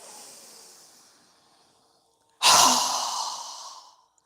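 A strong, forceful exhale through the mouth during yoga breathing, heard as one loud close breath that follows a soft, fading earlier breath and a short pause.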